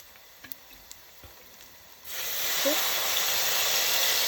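Cooking wine poured into a hot pot of lamb and lentil stew with butternut squash, breaking into a loud, steady sizzling hiss about halfway through after a quieter start with a few light clinks.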